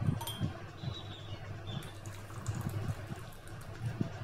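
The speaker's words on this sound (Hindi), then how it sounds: "अब हम इसे डालेंगे कप्स के अंदर।" Hot, twice-boiled tea poured from a pan into cups, a steady splashing liquid stream with a few brief clinks, close and moderately quiet, with no talk.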